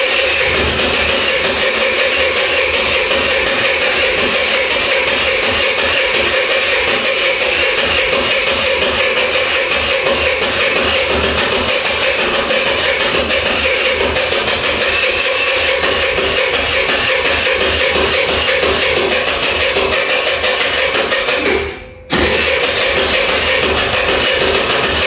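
A faulty Azura 50 scooter engine runs with a steady, buzzy drone close by, cuts out abruptly for a moment near the end, then catches and keeps running.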